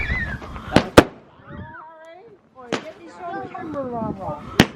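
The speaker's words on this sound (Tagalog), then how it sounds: "May pa fireworks tayo dito guys." Sharp firework bangs pop a few times, loud and sudden, with people talking and cheering in between.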